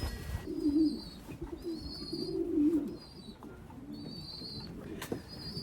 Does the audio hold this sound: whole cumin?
no